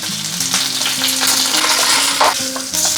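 Mustard seeds, urad dal and curry leaves sizzle in hot oil for tempering potatoes, a loud, close, continuous frying hiss with crackles and some stirring clatter, no voices.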